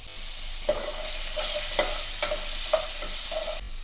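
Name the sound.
pumpkin frying in oil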